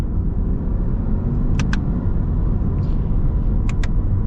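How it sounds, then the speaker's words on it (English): Steady low rumble of a 2024 Subaru Impreza RS under acceleration with manual shifts through its transmission, a continuous close cabin drone with a few brief high ticks over it and no voices. "we are going to get up and get our acceleration here with the RS."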